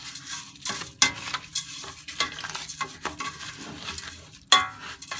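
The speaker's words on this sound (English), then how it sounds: "it's kind of hard to mix with one hand without the cauldron moving around." Rice being stirred in oil in a pot for ham risotto, with repeated scraping and sizzling strokes and sharp utensil clinks against the pot, close and clear, no talking.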